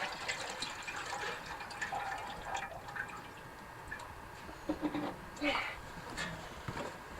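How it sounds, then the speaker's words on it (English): Maple sap pours and splashes into a pan on a hot stove, a soft, steady liquid trickle with faint drips and gushes at moderate distance, with a few light knocks. "Go ahead and put the sap in the pan, Justin."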